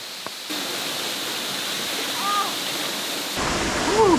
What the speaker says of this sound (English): we have this whole waterfall just to ourselves